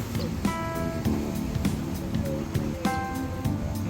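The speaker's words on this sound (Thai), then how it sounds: "เสียงคลื่น" Sea waves wash steadily against the shore beside a floating bridge at Koh Loi, Sriracha, forming a continuous surf hiss with faint tonal sounds and a few soft knocks mixed in.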